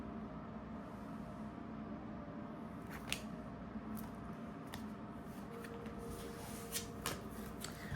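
Tarot cards shuffle faintly against a steady background hum, with soft, occasional sharp flicks and slaps of cards scattered through the stretch.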